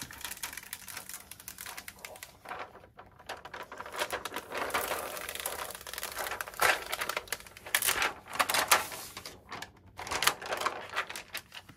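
A rhinestone transfer's backing is peeled up from a T-shirt in close, crackly bursts of crinkling and tapping, uneven and near, with no talking.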